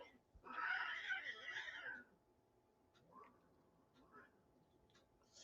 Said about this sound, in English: Let's send peace to the cats outside my window.